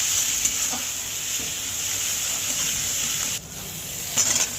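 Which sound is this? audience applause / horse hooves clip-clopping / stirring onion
stirring onion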